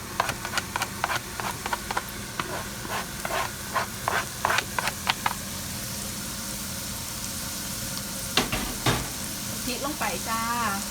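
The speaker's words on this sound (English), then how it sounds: "We'll just let that saute and soften a little bit." Carrot, celery, onion and chili sautéing in a pot for soup, a steady close sizzle under a run of sharp utensil scrapes and taps for the first five seconds, then a few louder clatters near the end.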